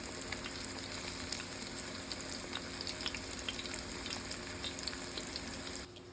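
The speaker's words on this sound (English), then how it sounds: "I guess please enjoy chicken frying." Chicken fries steadily in a pan in a home kitchen, a continuous close, even sizzle with small crackling pops throughout, no talking, easing off slightly just before the end.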